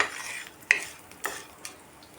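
Edible gum (gond) is stirred in a small spoonful of hot ghee in a kadai, giving a soft sizzle broken by a few sharp scraping strokes of a spoon against the pan.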